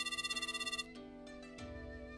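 Black rotary telephone in a horror video game ringing after a number is dialed: a fast trilling electronic ring burst that stops abruptly, followed by faint line tones, loud and close.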